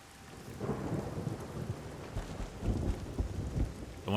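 Rain falls steadily in the video game Everybody's Gone to the Rapture, a soft continuous patter with low rumbling swells like distant thunder rolling underneath, fairly faint and without voices.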